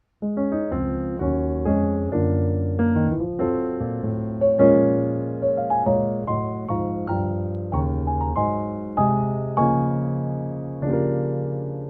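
Solo piano playing a slow, flowing gospel-jazz introduction to a song, rich chords rolling one after another with a gentle, steady pulse and no voices.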